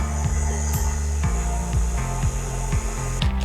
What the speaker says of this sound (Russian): Миксер включаю, а муку добавляем постепенно.